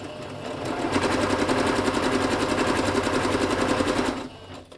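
A sewing machine running a zigzag stitch through cotton: a steady, fast mechanical chatter for about four seconds, close and loud, then stopping abruptly.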